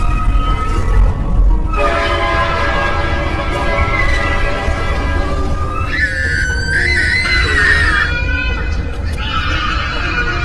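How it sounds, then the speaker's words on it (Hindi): A cartoon train horn sounds over a busy, noisy backdrop, a wavering tone rising and holding for a couple of seconds before breaking into rapid warbling blasts. "ट्रेन की आवाज सुनकर सोन की आंख खुल जाती है"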